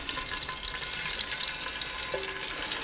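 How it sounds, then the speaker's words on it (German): Chicken drumsticks sear in hot oil in a Dutch oven, giving a steady, loud sizzle and crackle that holds throughout with no talk. "nehmen wir hier unsere Drumsticks und braten die von allen Seiten schön an"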